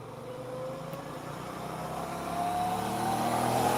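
A mini bike engine revs steadily, its pitch climbing and the sound growing louder over a few seconds, with no talk over it.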